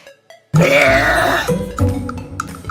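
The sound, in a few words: loud burp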